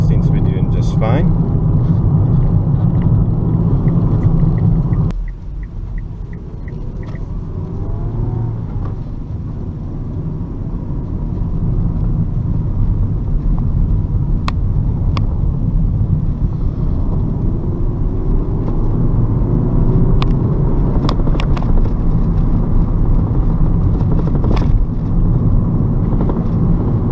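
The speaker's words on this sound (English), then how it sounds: "we're going over one or two bumpy patches at the moment" Steady engine and road rumble from inside a moving 2012 Kia Cee'd 1.4 on back roads, with occasional thumps and jolts from bumpy patches while someone talks.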